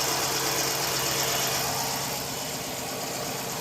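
A Dodge Charger or Challenger R/T with a 5.7-litre V8 idles close by after fresh spark plugs, giving a steady, even rumble with no stumbling or misfire across the few seconds.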